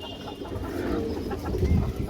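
A jabra baga hen pigeon, a female bird, gives low soft coos close by, a continuous murmuring with a fuller swell near the end and no speech over it.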